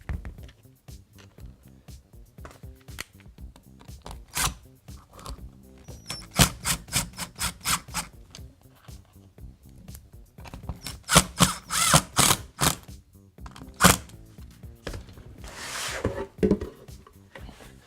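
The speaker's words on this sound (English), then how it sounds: "Just drill my hole." A power drill bores a hole to reposition a mounting plate in short bursts and longer runs, with whirring pulses and clicks, close and fairly loud, no talking.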